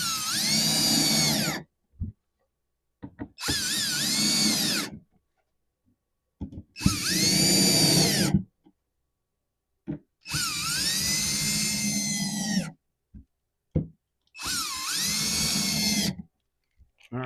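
Power drill driving screws into a wooden garden bed in five separate bursts of about two seconds each, a loud whirring whine rising as each screw runs down, with short clicks and quiet gaps between.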